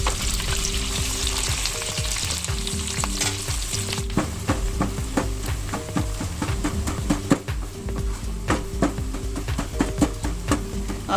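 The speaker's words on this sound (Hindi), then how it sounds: "इसी तेल में डालेंगे आप ये प्याज। पहले प्याज को ब्राउन करेंगे" Onions fry in hot oil for Kashmiri mutton rogan josh, sizzling loudly and steadily up close, with repeated scraping stirs and no talk.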